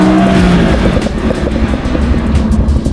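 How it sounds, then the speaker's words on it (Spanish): Red Audi R8 sports car driving, a loud close engine roar with tire and road noise rising and falling steadily, heard without talk. "Este es un Audi R8 color rojo"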